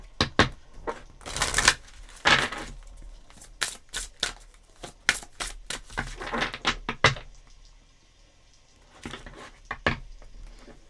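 A deck of oracle cards being shuffled and cut, with close, crisp riffling and slapping bursts, a quieter gap, then a few more card flicks.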